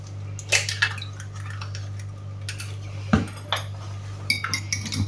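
An egg is whisked with a fork on a plate, giving quick, bright metallic taps and scrapes in irregular bursts over a steady low electrical hum.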